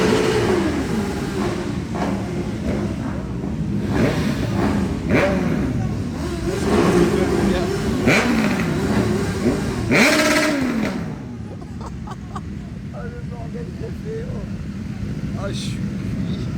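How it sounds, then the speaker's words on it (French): Several motorcycles rev and rumble nearby, including a Triumph Street Triple, with repeated rising throttle blips over a steady idle. Engine tones swell and fade, and people talk over the noise. "C'est des berceuses les motos qui ronronnent comme ça."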